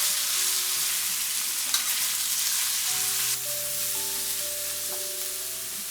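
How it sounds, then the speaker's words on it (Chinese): Sliced pork, added with salt to garlic in a wok, is stir-fried over high heat: a constant, close sizzle runs throughout, broken by occasional scraping and stirring knocks, with no voices. "大火翻炒3分钟。"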